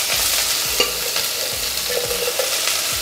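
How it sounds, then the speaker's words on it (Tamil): Broad beans being tempered and stirred in a hot kadai, a steady loud sizzle of frying with scattered crackles and pops from the oil throughout, no voices. "இப்போ இதில் இந்த கடாயில் அவரைக்காய் தாளிச்சிடலாம்"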